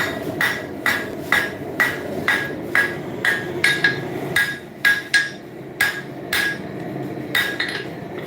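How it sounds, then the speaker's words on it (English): Repeated hammer blows ring out on hot steel as a horseshoe is forged into a knife preform, about fifteen sharp metallic strikes in a steady, slightly uneven rhythm, close and loud with no talking. "We'll go for a little heavier hammer this time, see if that makes a difference."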